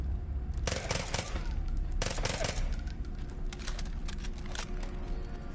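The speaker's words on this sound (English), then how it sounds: "Ooh, shotgun." Gunfire from a shotgun and other weapons in the Far Cry 5 video game, with two loud bursts of rapid shots followed by scattered further blasts over a dense, continuous background of game noise.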